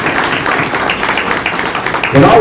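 Steady audience applause at a housing-issue panel discussion, a continuous wash of clapping that gives way to a nearby voice starting to speak at the end.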